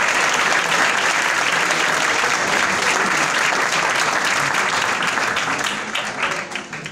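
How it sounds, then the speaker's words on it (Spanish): An audience at a film festival awards ceremony applauds with steady, dense clapping that holds throughout and begins to thin just before the end. "Aplausos."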